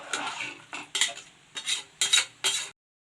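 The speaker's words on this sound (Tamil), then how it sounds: "இப்போ எல்லாத்தையும் நல்லா கலந்து விட்டுக்கலாம்." A spoon stirs vegetable rice made with kuthiraivali millet in a metal pot, producing five or six distinct scraping, clinking strokes in an irregular rhythm, close and clear with no talking, then silence.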